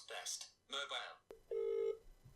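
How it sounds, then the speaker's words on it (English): A phone places a call through Siri: a short chime follows brief speech, then a steady electronic tone holds for about half a second, quiet and close, before silence. "Oh, I've got a phone call."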